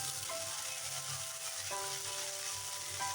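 Ginger-cumin paste frying in hot oil with black cumin and two bay leaves for a Bengali kochu shak with hilsa fish head, a soft steady sizzle with faint clinks of a stirring spoon, quiet and close.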